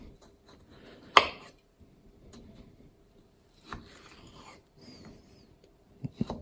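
A knife chops food into cubes on a cutting board, a few separate thuds and knocks with quiet rustling between them, close and sparse.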